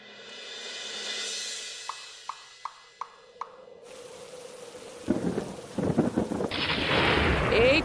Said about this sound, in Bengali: এই তো ঝড় বৃষ্টি শুরু হয়ে গেল